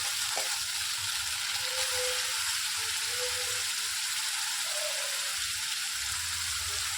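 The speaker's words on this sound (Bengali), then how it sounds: "ওর মধ্যে গরম মশলা ফোড়নে দিয়ে পেঁয়াজ কুচি, পেঁয়াজ বাটা ভালো করে ভেজে নেব।" Chopped and ground onions fry with whole garam masala in mustard oil, giving a steady, close, even sizzle that runs without a break for the whole stretch.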